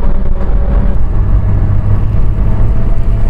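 A BMW E36 fitted with a big turbo runs at full throttle, its engine droning loud and close in a steady, sustained roar with no talking over it.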